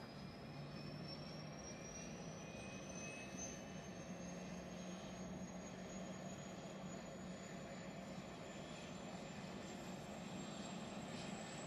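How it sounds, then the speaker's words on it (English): A C-17 military transport aircraft's jet engines spool up from a start, a steady broad roar with a rising whine that climbs through the whole stretch, heard from a distance with no voices. "The engine's starting up."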